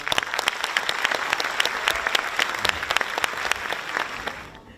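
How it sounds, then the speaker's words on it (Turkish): An audience in a hall applauds the country's president, lively clapping with distinct sharp claps over a dense wash that fades toward the end. "Ülke başkanımıza bir alkış istirham ediyorum."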